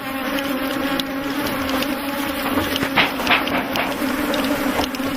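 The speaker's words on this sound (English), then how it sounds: "As more hives are opened, thousands more bees come out to defend them." A dense, steady drone of thousands of African honey bees buzzing together as they defend opened hives, loud and close, with no voices.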